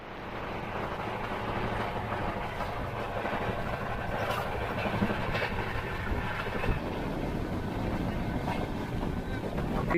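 The 12138 Punjab Mail express passenger train on Indian Railways, running at speed as a steady, loud, close rumble of rolling wheels and carriage noise, continuous across the whole stretch.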